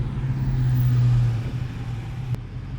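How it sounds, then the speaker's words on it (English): A deep Dodge Challenger Hellcat engine rumbles steadily at close range, swelling slightly and then settling into a lower idle-like drone. "it definitely sounds louder than that Hellcat"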